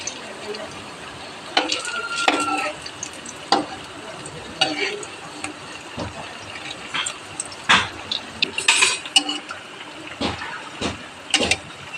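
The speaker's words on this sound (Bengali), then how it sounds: "আমি উল্টে দিচ্ছি আর এটা খুব সুন্দর করে আমি লাল লাল করেই ভেজে নেব" Malpua, a sweet Bengali pancake, frying in oil in a pan and being flipped, with busy crackling sizzle broken by several sharp utensil scrapes and knocks against the pan, close and moderately loud.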